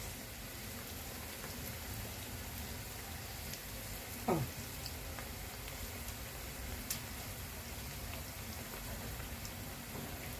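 Steady crackling sizzle of onions frying in oil, a dense hiss throughout with occasional brief pops and a faint clink near the middle.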